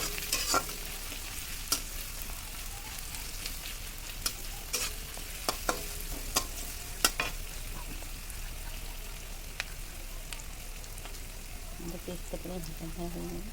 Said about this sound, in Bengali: আমাদের পেঁয়াজটা প্রায় ভাজা হয়ে গেল।